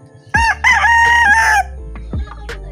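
A loud six-month-old rooster crows once, a long ringing cock-a-doodle-doo up close, followed by a few shorter clucks and calls.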